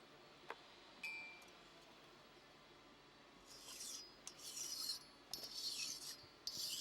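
A file scraping burrs from the worn rails of a chainsaw bar, faint and close, with a couple of light clicks followed by several soft rasping strokes.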